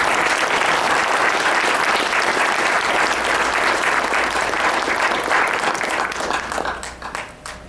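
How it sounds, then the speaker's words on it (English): A lecture-series audience applauds the speaker with loud, dense, sustained clapping that holds steady for several seconds before tapering off at the end. "How about another round of applause for Bruce Singleton?"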